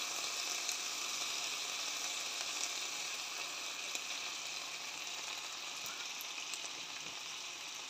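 Apple fried rice frying in butter in a pan, a steady soft sizzle with faint crackles running continuously at low level, no talking.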